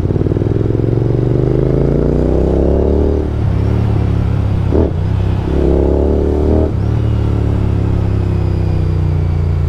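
A Royal Enfield Continental GT motorcycle with a loud aftermarket exhaust idles and revs just after a cold start on a rainy day, giving a deep, close, continuous thumping rumble with a few throttle blips.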